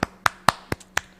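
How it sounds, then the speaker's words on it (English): For an online trivia quiz winner, a single pair of hands gives five sharp, close claps at an even, unhurried pace, each one crisp and separated by quiet. "You get a round of applause."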